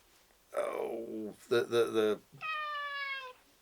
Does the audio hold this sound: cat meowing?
yes